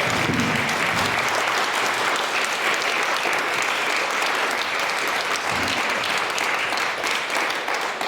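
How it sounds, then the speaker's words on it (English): An audience at a true-crime speaker series talk bursts into sustained, dense clapping that stays loud and even for the whole stretch, with no pause. "Let's give them a round of applause for this great story."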